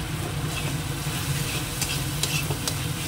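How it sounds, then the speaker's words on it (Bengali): Spices and green chilli sautéing in a pan with a little water, a steady dense sizzle and stirring throughout with a few scraping clicks, close and even, no talking. "মশলাটা কষানো হয়ে গেছে"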